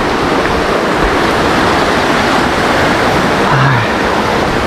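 A bamboo waterfall at Curug Papat in Rejang Lebong, Bengkulu, roars in a loud, unbroken wash of falling water, close by and steady throughout.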